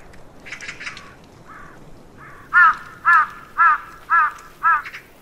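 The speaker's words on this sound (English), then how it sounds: "Crows and magpies often give away a tiger's presence." Crows call in an Asian forest near a tiger's kill, first a few softer scattered calls, then five loud, harsh caws in an evenly spaced series close by.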